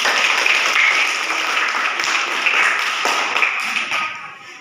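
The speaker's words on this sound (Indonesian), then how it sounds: "Kita kasih tepuk tangan untuk kelompok 3 dulu" A classroom audience of students gives a continuous round of applause for group 3 at a school session in Ambon, a dense patter of clapping that fades slightly toward the end.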